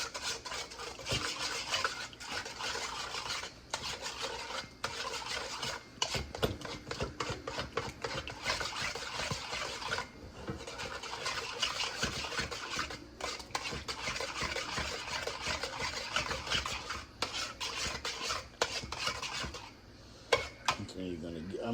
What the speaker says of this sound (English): And stir that up now.